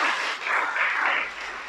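A church congregation bursts into steady applause, a dense wash of many hands clapping together in a reverberant hall, loud and continuous with a slight swell in the middle.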